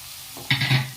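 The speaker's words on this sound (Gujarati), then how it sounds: "તેને 2 મિનિટ માટે આ રીતના હલાવતા રહેશું" A spoon stirs boiled peanuts through dry potato sabzi, a farali suki bhaji, in a pan, giving a short scraping, sizzling burst partway through an otherwise quiet moment.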